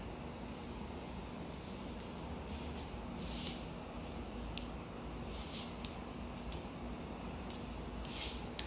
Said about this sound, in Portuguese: Eu vou abrir e fechar a tesoura, ó, abri, fechei até o meio, agora só correr a tesoura na mecha.